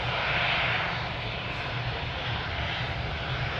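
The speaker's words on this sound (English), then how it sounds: "We have Gulfstream crossing the runway first. Gulfstream G550." Gulfstream G550 business jet crossing the runway at Anchorage airport, a steady, broad engine rumble and whine held at an even level for the whole span, heard at a distance with no talk over it.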